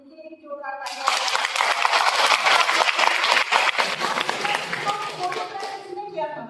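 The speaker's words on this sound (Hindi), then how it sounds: "इनके लिए जोरदार तालियां" Loud, dense applause from an audience at an Independence Day celebration, honoring dance performers; it swells in abruptly after a moment of quiet, holds steady, then tapers at the end.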